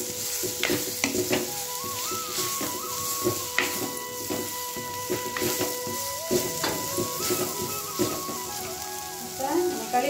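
Chopped green chillies sizzle steadily in a hot pan, with clinks and scrapes from stirring and a faint tonal hum running underneath, close and continuous without speech.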